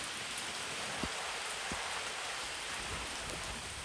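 Steady rain falls at a campsite during a rainy vanlife camping trip, a dense even patter with a few sharper drips tapping nearby throughout, and no voices.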